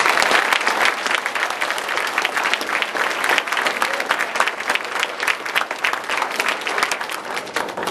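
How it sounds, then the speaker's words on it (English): A crowd at a fundraising announcement event bursts into sustained applause, loud and dense with many hands clapping continuously for about eight seconds, a few cheers mixed into the steady roar. "I'm pretty sure that guy deserves a round of applause"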